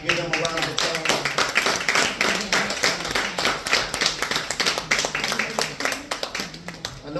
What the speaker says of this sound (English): Stand up, give them a round of applause.